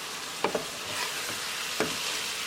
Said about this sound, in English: We're going to mix it.